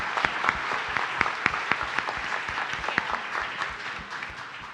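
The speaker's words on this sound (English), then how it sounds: "Let's have a round of applause" A round of applause from the audience at a live community crowdfunding event, with steady, dense clapping lasting several seconds at moderate loudness and tapering slightly toward the end.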